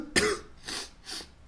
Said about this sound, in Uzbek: Ozgina yo'tal bor.